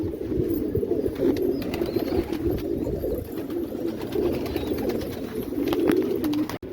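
Pigeons coo softly inside a pigeon house, their low, rolling calls overlapping steadily from close by, with faint rustling and a few brief clicks in the background.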